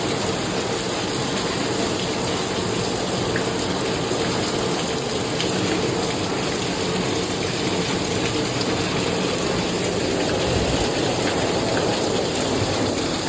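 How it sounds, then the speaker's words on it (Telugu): Heavy rain pours down in Santa Cruz, Mumbai, in a dense, unbroken roar, loud and close, steady throughout with no voices. "कितना जोर से बारिश आ रहा है, देखो जोर से गिर रहा है।"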